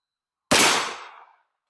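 A single close, loud gunshot from a Ruger LC Carbine in 10mm firing a hot handload with the stock folded, a sharp crack that rings out and fades over about a second.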